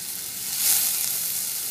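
Chopped green chillies and curry leaves fry in a pan, giving a bright, dense sizzle that swells briefly and then settles into an even, close hiss.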